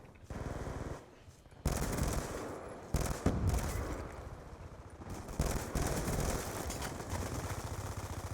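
Automatic weapon fire in Fortnite during a close-quarters fight, sustained bursts of rapid shots with brief gaps, loud and dense, with a voice speaking over parts of it.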